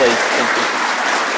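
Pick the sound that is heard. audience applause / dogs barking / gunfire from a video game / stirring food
audience applause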